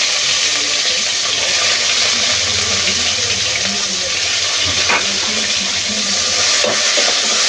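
Chopped onion frying in hot oil in a pan, a loud, continuous broadband sizzle with faint stirring scrapes and a brief sharper tick partway through, no speech.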